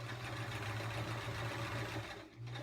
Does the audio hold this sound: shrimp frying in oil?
no